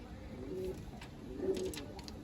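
A pigeon coos twice, low and soft, in a quiet spot, each call a short rolling hum with a pause between.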